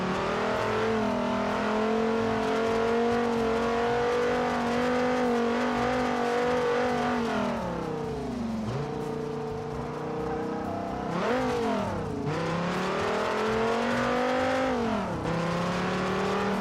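A video game's default car engine sound drones steadily and loud, with pitch dipping and climbing again as the revs shift, and tire squeal here and there throughout.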